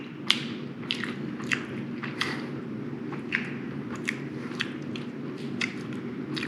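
Someone bites into a Beard Papa's cream puff with an airy shell and cream filling, giving a series of soft, close, crisp bites and squishy chewing sounds against a low background rumble.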